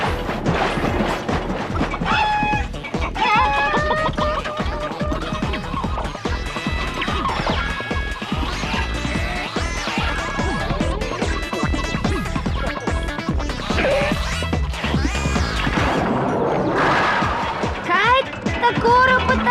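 A cartoon cookie-making machine clatters and bangs in rapid, irregular knocks and crashes, loud and busy, mixed with voices talking and tonal cartoon sounds.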